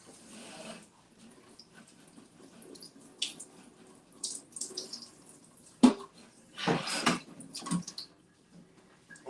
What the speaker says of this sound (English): You just rinse them.